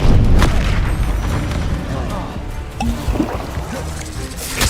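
A Confringo fire spell blast in Hogwarts Legacy, a loud booming explosion that rumbles heavily and slowly fades, followed by scattered smaller game effects.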